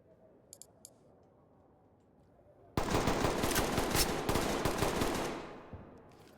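Rapid DMR rifle fire in the Ready or Not video game, a loud burst of fast repeated shots lasting a few seconds after a quiet stretch with faint clicks.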